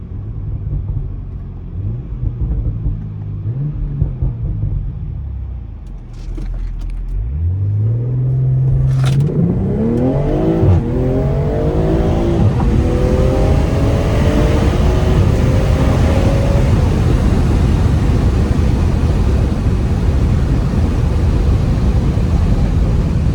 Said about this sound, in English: Y'all want to see a pull? I want to see if I can launch it.